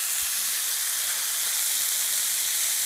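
A rack of lamb sears on a Mojoe griddle outdoors in the Utah outback, giving off a steady, loud sizzle and hiss that holds evenly throughout with no one speaking.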